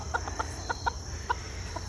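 Chickens, including a silkie rooster, cluck in short scattered bursts of about eight calls over a steady background hum, close and moderately loud with no talk.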